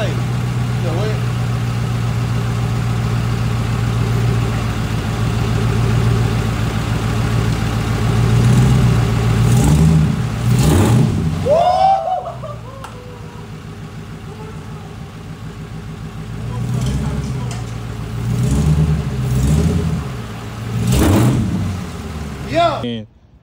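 Dodge Charger Pursuit (2012) with a swapped 392 engine running steadily, a low droning idle heard close up, with people talking over it and a brief louder swell midway.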